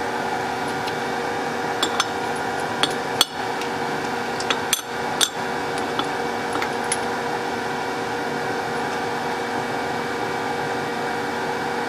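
Metal clanks and knocks as a workpiece is clamped down on a CNC mill, several sharp hits scattered over a steady machine hum, close and fairly loud.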